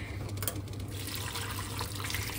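Water pours steadily into a cooking pot holding lemon and other ingredients for a home-cooked dish, a continuous close, full-bodied stream with no talking.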